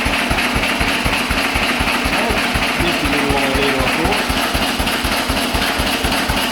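An old stationary engine with a governor runs at an even idle, its close, loud chugging beat pulsing rapidly and steadily while someone talks over it.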